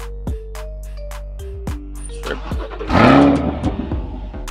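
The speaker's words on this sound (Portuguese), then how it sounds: "depois de ouvir o barulho do motor" A car engine is revved in one loud surging burst near the middle, rising and falling over a steady background with clear tonal notes before and after.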